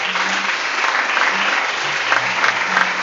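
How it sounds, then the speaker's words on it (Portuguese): A church congregation applauds together after baptisms, a steady wash of clapping from many hands filling the room, with a low hum underneath. "Vamos aplaudir o Senhor pelos batizados também."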